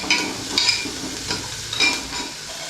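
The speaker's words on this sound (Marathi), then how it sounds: "कांदाचा ब्राऊन करून घ्यायचा कांदा." Onions brown in a hot pan with a soft, steady sizzle, and a few light stirring scrapes sound close by with no talking.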